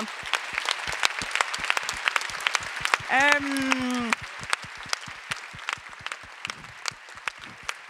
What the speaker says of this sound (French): je voudrais un gros applaudissement